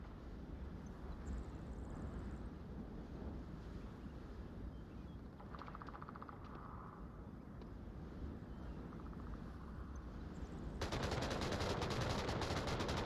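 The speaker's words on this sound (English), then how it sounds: "Lots of gunfire coming out." Bursts of gunfire from the VR shooter Onward during a competitive match, muffled and distant beneath a steady noisy bed, with a louder, denser stretch of rapid fire near the end.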